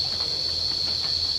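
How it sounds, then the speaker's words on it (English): Cicadas singing in trees in a rainforest, a continuous high, steady buzzing drone that holds unbroken over faint low background rumble. "This is the cicada. You can still hear their sounds up on the tree."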